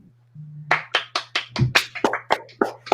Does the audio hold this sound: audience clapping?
yes